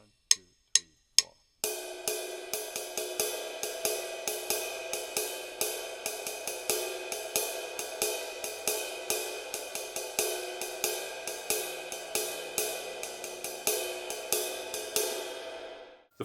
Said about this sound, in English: The full beat played on the bell.